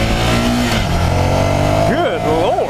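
A 2015 Ducati Scrambler motorcycle engine revs and accelerates loudly up close, with a steady throaty drone and rising pitch sweeps near the end, and a voice talking over it.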